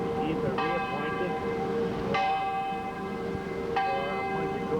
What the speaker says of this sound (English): You hear the bell in the background.